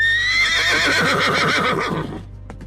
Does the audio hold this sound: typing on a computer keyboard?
no